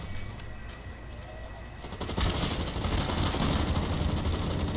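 Automatic gunfire in the shooter game Blacklight: Retribution, a dense rattling burst that starts partway through and stays loud and continuous over faint background game ambience.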